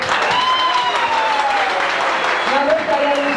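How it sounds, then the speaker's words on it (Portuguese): Audience applause fills a ball celebrating the anniversary of a Rádio queen's election, steady dense clapping from a large crowd sustained throughout, with a host's voice calling out over it. "Palmas para ela."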